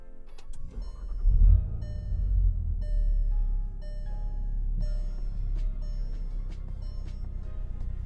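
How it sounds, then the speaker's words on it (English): A 2019 Volkswagen Golf GTI with a manual gearbox starts by push button: a quick starter whir catches into a low engine rumble that settles to a steady idle, heard close inside the car without talk. "And that's it, simple startup."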